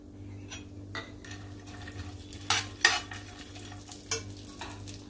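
Cashews, almonds and raisins frying in melted ghee for pineapple sheera, a steady soft sizzle broken by sharper scrapes and clinks of a spoon stirring against the pan, close and moderately quiet.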